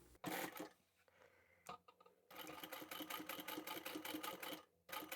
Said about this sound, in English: I'm just going to sew straight down the straight edge of those darts.